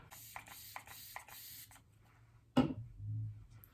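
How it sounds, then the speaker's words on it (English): L'Oreal Shake and Glow Dew Mist is spritzed onto a makeup sponge in a few quick, soft hissing sprays, then a louder tap and brief handling noise follow, all close and quiet. "I'm going to spray it with the L'Oreal Shake and Glow Dew Mist. I'm going to do a couple sprays on my sponge"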